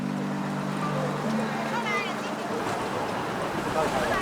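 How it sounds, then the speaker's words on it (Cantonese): Large and small fishing boats dock at the Bohe harbour pier around 3 a.m., with a steady engine hum and broad wind and water noise beneath a bustle of indistinct crowd voices. "隨住大大細細嘅漁船靠岸，博賀港嘅小碼頭人聲鼎沸。"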